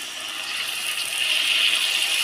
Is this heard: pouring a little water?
yes